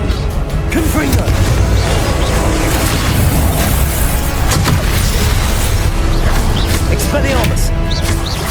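A Confringo blasting curse going off in Hogwarts Legacy, with loud continuous explosive booms and bursts from spell combat layered over dense battle noise.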